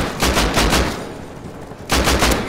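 Rapid bursts of automatic fire from an attack helicopter in the Rust video game, two volleys of quick repeated shots with a short gap between them, loud and close.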